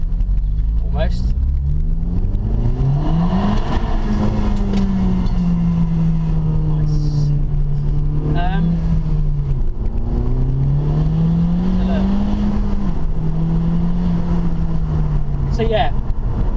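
A 2016 FK2 Honda Civic Type R engine revs repeatedly from inside the cabin, the pitch sweeping up and falling back in several long pulls under a steady road and wind roar, with someone talking over it.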